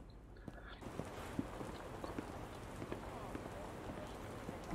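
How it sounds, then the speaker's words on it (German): Steady rain falls in the video game Drug Dealer Simulator, a soft continuous patter with scattered louder drops and faint footstep-like taps throughout. "Jo, ich höre Regen."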